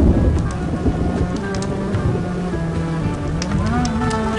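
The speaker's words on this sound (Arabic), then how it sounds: "هاد مطر الخريف،" Autumn rain falls steadily with a low rumble of thunder underneath, a continuous wash of sound filling the whole stretch.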